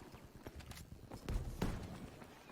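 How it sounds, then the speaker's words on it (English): Footsteps in Battlefield V, a World War II shooter: a short quick series of soft thuds, fairly faint and close, with light background noise. "I can hear the footsteps here."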